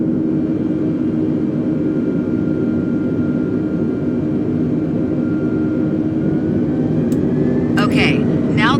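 Airbus A320 jet engines spooling at takeoff thrust, a steady loud whine and roar heard from inside the cockpit, sustained throughout, with a short burst of talk near the end.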